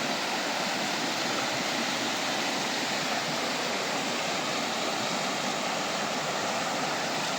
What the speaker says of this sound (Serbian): Ali je sad toliko kiša bilo da su reke stvarno moćne